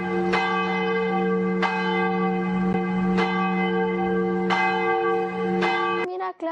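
A large hand bell rings at a Mexican Independence Day Grito celebration with several loud, resonant strikes at steady intervals, each tone ringing on and overlapping the next, with a steady low hum beneath.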